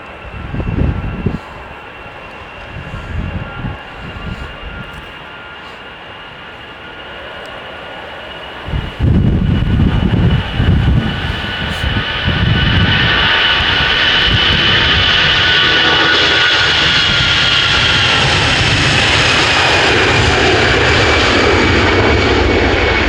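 An airplane takes off with its landing gear retracting at Edinburgh Airport, the engine roar swelling abruptly after quieter rumbling and then holding loud and steady with a rising whine as it climbs away.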